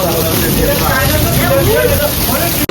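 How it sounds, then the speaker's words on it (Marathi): Heavy rain pours down on an outdoor haldi celebration in Konkan, a dense, steady hiss that never lets up, with voices faintly mixed into the downpour. "फुल पाऊस"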